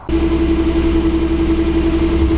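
A turbocharged Lexus IS300 engine catches and settles into a steady, loud rumbling idle with a constant low drone.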